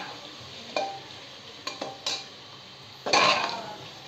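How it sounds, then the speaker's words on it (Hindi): Goat liver (kaleji) being stir-fried in a pan: a faint steady sizzle, broken by a few sharp scrapes and clinks of a spoon against the metal, with one louder stirring burst near the end, no voices. "इसको हम भून लेंगे, इन्हें भूनेंगे 2 से 4 मिनट तक"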